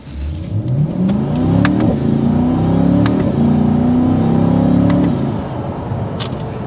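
A 2023 Chevrolet Corvette Stingray with an 8-speed dual-clutch transmission accelerating hard on a test drive, the engine note climbing loudly through rising revs with a gear change, then easing off.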